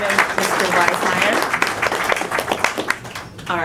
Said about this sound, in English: give her a hand clap as she comes